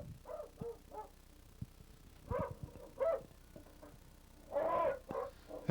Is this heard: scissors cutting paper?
no